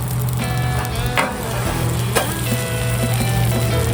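A western omelette frying on a flat griddle gives a loud, constant sizzle, with a couple of sharp scraping taps from a spatula, no talk.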